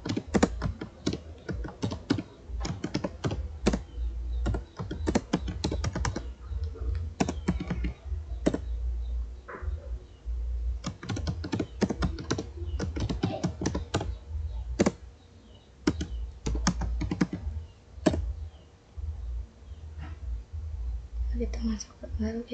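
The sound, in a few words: typing commands on a computer keyboard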